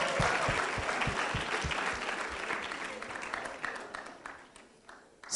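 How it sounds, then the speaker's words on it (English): Audience applause at a youth conference speech, a loud dense burst of clapping from a crowd that gradually thins and fades toward the end. "Give yourselves a round of applause."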